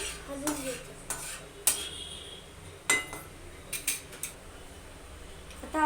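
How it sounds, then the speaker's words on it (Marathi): Cumin seeds stirred in a pan with a metal spoon, giving a series of close, sharp scraping and clinking strokes against the pan at an uneven rhythm, with a faint sizzle underneath and no talking. "जिरं टाकलेलं आहे ते आपण हलवून घ्यायचं."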